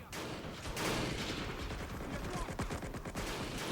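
Many guns fire at once in a World At War mod battle, a thick barrage of overlapping shots, with a distinct rapid volley rattling near the end.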